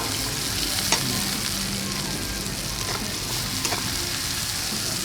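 Red and white onions sauté in a hot pan for chicken sisig with a loud, continuous frying hiss and occasional stirring knocks, up close.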